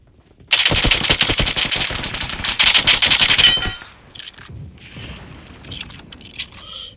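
Gunfire in the PUBG Mobile game comes as a loud, close burst of rapid automatic fire lasting about three seconds, then fainter scattered shots and game sounds, with no talk.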